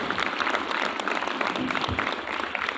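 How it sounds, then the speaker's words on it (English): Audience applause for school prize winners at a Republic Day celebration, steady dense clapping throughout at moderate loudness with no talk. "Shall we all give them another round of applause?"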